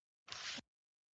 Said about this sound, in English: able to hear the pages turn